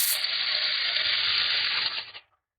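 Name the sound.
chopped onions added to hot pan with caramelized sugar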